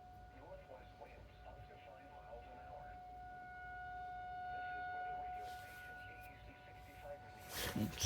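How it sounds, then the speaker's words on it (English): Outdoor civil defense sirens sound their required weekly test, a faint, sustained distant wail carried on the air, with quiet rustling and a brief noise near the end. "There go the sirens."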